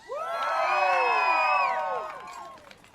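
An outdoor crowd at the Stand For Truth protest bursts into loud cheering and whoops, swelling quickly, holding for over a second, then fading with scattered shouts.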